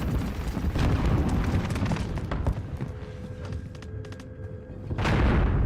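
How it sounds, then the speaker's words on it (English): A frag grenade goes off in Call of Duty with a heavy, rumbling boom. Scattered gunfire and battle noise surround it, and a second loud blast swells near the end. "Throwing frag"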